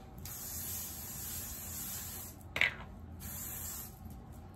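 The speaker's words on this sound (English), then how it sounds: "So let me spray this bit." Close, breathy hairspray hisses in two long bursts with a short sharp puff between them, set against quiet background.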